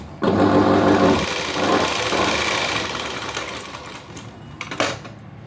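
An electric sewing machine stitches a V-neck blouse in a short loud burst of rapid rhythmic clatter, then slows and fades into softer handling noises.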